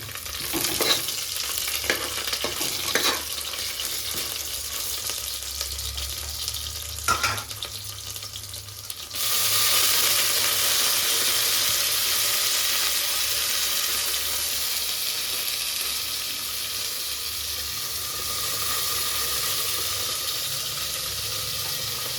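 Slit green chillies go into a hot pan, and a few light clinks and stirring sounds give way to a loud, sustained sizzle that keeps hissing steadily for a long stretch.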